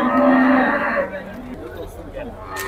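Cattle at the Maştağa livestock market in Azerbaijan, large purebred cows, give a loud drawn-out moo close by that fades after about a second. Fainter lowing and crowd murmur continue in the background.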